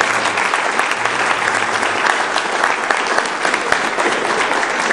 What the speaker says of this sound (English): So let's give a little applause.